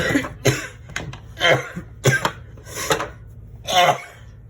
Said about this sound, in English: you are going to hear me cough a lot